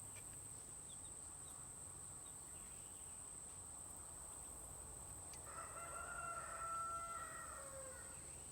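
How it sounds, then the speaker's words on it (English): Outdoors, a rooster lets out one crowing call partway through, distant and fairly faint, over a steady high chirring of insects and quiet background hum. "Some chickens down there."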